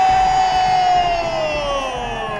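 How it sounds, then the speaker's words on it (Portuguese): Maricá Futebol Clube supporters cheering and shouting at the final whistle of a title-winning football match, a dense, loud crowd roar with a sustained tonal note, likely a whistle or horn, drifting slowly downward over it. "A torcida do Maricá canta, grita, é campeão, vai acabar o jogo."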